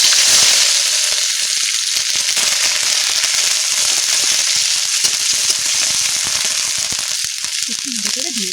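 Onion paste hits hot frying oil, setting off a loud, dense, crackling sizzle that holds steady and close throughout, with a faint voice near the end.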